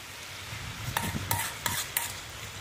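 Spice paste with chillies being sautéed and stirred in a pan for Afghani masala paneer, a few distinct scraping stirs over a soft, steady background sizzle, close and fairly quiet.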